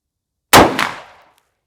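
A single loud, close rifle shot from a Big Horn Spike Driver takedown rifle chambered in .500 Magnum, a sharp blast with a quick echo reflection, then a reverberant tail fading out within about a second.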